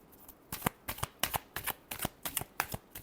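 Tarot cards being riffled and shuffled in a steady run of about a dozen crisp, close flutters, each one a sharp papery burst, quiet overall with no voices.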